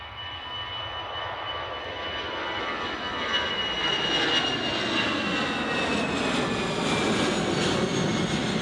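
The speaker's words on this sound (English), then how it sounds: "next departure, A319, Finnair going back to Helsinki" A Finnair Airbus A319 jet departs Manchester Airport, its engine roar building steadily into a loud, sustained rumble with whining tones across the whole stretch.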